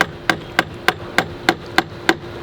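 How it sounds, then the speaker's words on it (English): Hammer striking a nail into a wooden board outdoors while installing solar party lights, eight sharp, evenly spaced blows at a steady rhythm, close and clear with no talking. "So I'm just going to hammer this in there."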